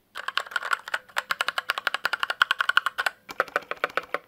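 Quick, clattering keystrokes on a 65% gaming keyboard with RGB side lighting and a springy space bar, close and crisp, in a steady flurry of typing with one brief pause.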